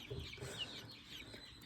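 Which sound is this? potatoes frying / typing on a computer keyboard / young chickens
young chickens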